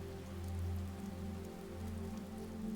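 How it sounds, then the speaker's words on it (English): Steady rain falls on a rainy night, a dense even patter with scattered droplet taps, no voices. "the first fat droplets of rain begin to fall"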